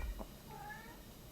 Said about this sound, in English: And there's our cat again.